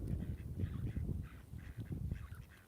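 Ducks and geese honking and quacking repeatedly around icy water, a busy overlapping chorus of calls at moderate distance with steady low background noise.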